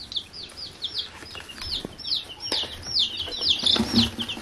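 Young chicks peeping in a small group, a run of repeated high, thin chirps overlapping one another at close range, with light handling noises underneath.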